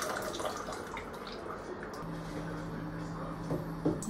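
Ginger and onion stock strained through a sieve in a home kitchen, giving a soft, steady trickle and drip of liquid that stays faint and close throughout.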